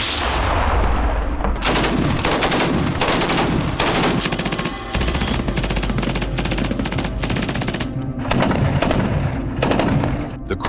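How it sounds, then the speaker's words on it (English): Intense artillery fire from a 2S1 Gvozdika self-propelled gun during a strike, a loud, close barrage of sharp, rapid booms and cracks in dense succession. "The crew of the two S-1 Gvozdika self-propelled gun from the Vostok group launched an intensive artillery strike"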